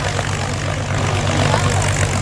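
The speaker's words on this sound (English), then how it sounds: "splendid agricultural sound of those very reliable, simple engines" Droning propeller engines of Yak 50 aerobatic aircraft performing at the Cosford Air Show in England, a loud, steady low rumble with a constant hum and no break.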